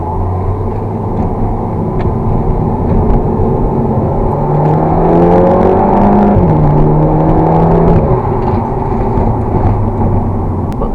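Engine intake of a MK2 Audi TT heard from inside while driving on a UK road: a loud, steady droning rumble with rising and falling engine tones as it accelerates and shifts, no talking.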